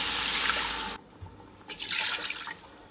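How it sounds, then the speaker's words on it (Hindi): Water poured into a pot of frying mutton for nihari, a broad rushing splash that stops briefly, then resumes in a second loud pour, close by. "अब हम लोग इसके अंदर पानी ऐड कर देंगे।"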